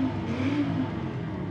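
A 2020 Audi RS3 Sedan engine in the racing game Forza Horizon 5, a loud, steady rumbling drone that swells slightly in pitch, then holds.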